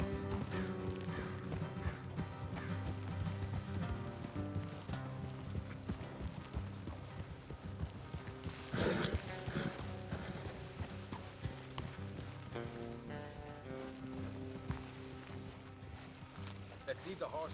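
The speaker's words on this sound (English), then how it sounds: "Let's leave the horses here and go the rest on foot." Horse hooves clip-clop in Red Dead Redemption 2 as riders travel along a road, the steady steps running under game music and spoken dialogue, with a brief whinny-like burst partway through.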